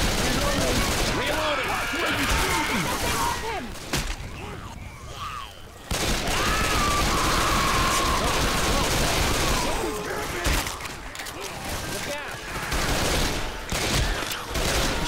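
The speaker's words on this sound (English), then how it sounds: "Shot him in the head, I swear." Left 4 Dead 2 gunfire, dense and nearly continuous rapid shots and chaotic combat noise, loud and close, with a short lull before the shooting resumes and voices talking underneath.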